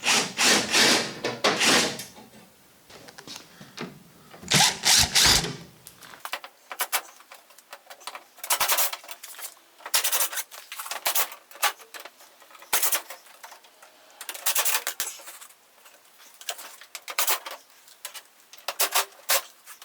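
An X-brace being taken off a rocking wooden cabinet that was damaged in a stripping tank: a loud burst of scraping and knocking at the start, then a long run of close, sharp wooden clicks, taps and creaks, with no talk.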